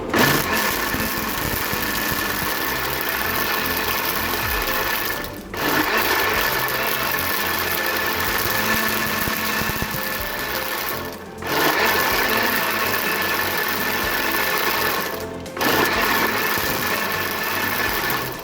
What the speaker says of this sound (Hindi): इसको बहुत अच्छी तरह से ब्लेंड करेंगे कि ये अच्छी तरह से पिस जाएं